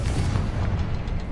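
The Confringo blasting spell in Hogwarts Legacy detonates as a loud, booming explosion with a deep rumble that fills the whole short moment.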